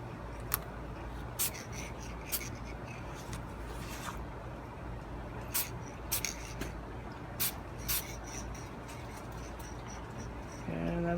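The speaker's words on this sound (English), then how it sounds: "you want to spray it on nice and light, so this way it goes on evenly" Black spray paint hisses from a can onto a custom Funko Pop figure in short, light bursts, a series of quick sprays with gaps between them over a low background hum.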